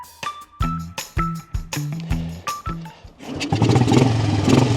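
A 1983 Royal Enfield motorcycle imported from India, freshly fitted with a new carburettor, condenser and battery, cranks in a string of rhythmic starter turns, then fires and settles into a loud, close, chugging idle.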